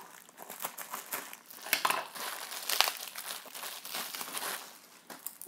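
Subscription box packaging being cut and pulled open up close, with steady crinkling and rustling of paper and plastic wrapping in uneven bursts, without speech.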